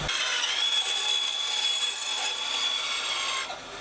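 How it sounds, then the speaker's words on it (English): A wood bandsaw cuts through reclaimed copper pipe, giving a steady, close rasping whine with a high ringing tone that holds for a few seconds and then drops away. "Since these are copper, I'm just using my wood bandsaw."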